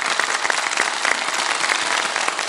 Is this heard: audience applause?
yes